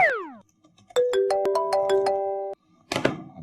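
A mobile phone rings with an incoming call, a bright melodic ringtone of stepped tones playing loud and close for a couple of seconds before cutting off, followed by a brief clattering burst.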